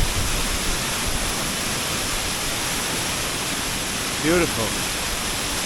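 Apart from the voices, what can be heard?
waterfall, water falling off rock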